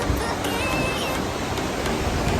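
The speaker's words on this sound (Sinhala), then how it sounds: "ලක්ෂපාන දියැල්ල බලන්න." Lakshapana waterfall rushes in a continuous broad roar of falling water, steady and close, with some wind noise on the microphone.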